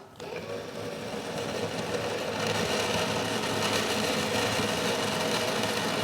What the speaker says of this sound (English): Put a pilot hole through there.